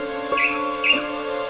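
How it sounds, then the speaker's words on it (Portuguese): Blue manakin (tangará dançador) calling in Atlantic forest, two short bright calls about half a second apart over a steady background of insect drone. "avistamos um tangará dançador, que vocalizava com insistência"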